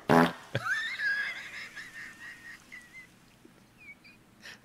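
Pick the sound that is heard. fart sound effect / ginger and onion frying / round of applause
fart sound effect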